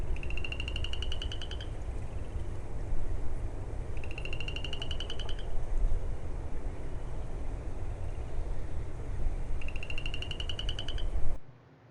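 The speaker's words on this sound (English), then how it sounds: "So a single male sounds like this." A lone male boreal chorus frog gives three rising, rapid trilling calls, like a finger running along a comb, spaced several seconds apart over a steady outdoor hiss.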